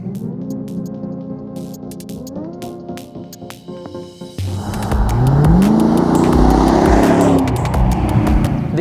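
A Jaguar XKR's engine idles with a low burble, then after a sharp start it roars loud and close as revs climb steadily and settle, with no voices.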